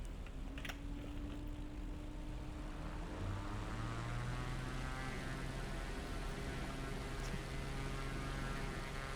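Propeller aircraft engine in flight in Microsoft Flight Simulator 2020 on a calm day, a steady droning hum with slowly shifting tones, continuous and alone.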